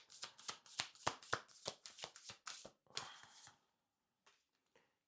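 A deck of oracle cards is riffled and shuffled in a quick run of crisp, close flutters and taps, then a few soft card placements follow after a brief pause.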